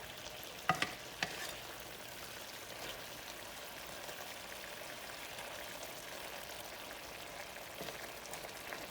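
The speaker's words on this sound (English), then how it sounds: "Stir them up a little bit so the ones on the top can start cooking" Squash fries quietly in a pan with a faint, steady sizzle like light rain, and a few sharp clinks of stirring come early on, soft and close with no talking.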